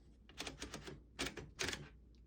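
Keys clack on a 1940 Royal KMM vintage desktop typewriter, with a quick burst of strikes and then two heavier clusters of typing, close and crisp, no voices.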